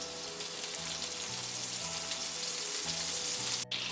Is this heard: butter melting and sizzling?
yes